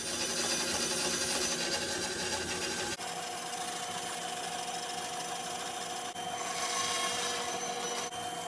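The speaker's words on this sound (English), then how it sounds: "So there we have, cut the chocks out, we have sanded them, they're identical." Wooden chocks for the forward cant frames of a model HMS Thorn being cut and sanded, a steady continuous rasping scrape that runs throughout with brief breaks, close and fairly loud, with no voices.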